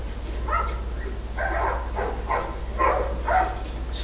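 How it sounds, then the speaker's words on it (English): Dogs in The Last of Us video game bark in a string of several sharp woofs at a moderate distance, with a low steady hum beneath them. "These dogs are all accounted for."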